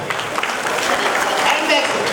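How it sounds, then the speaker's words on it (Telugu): Audience applause at a hospital-sponsored event, a short burst of crowd clapping mixed with a voice speaking over it. "క్లాప్స్ అండి, క్లాప్స్."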